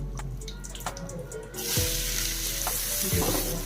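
Onion added to hot oil in a pan with turmeric and asafoetida, a loud sizzle that bursts up as it hits and keeps hissing steadily, with a few stirring clinks.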